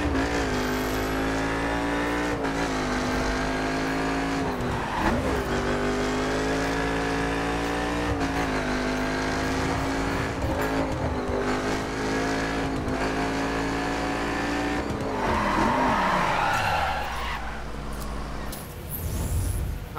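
In The Crew, a car with traction control disabled in sport driving mode takes a series of turns. The engine drones steadily, the revs dip and rise through the corners, and the tires squeal near the end, all loud and without speech.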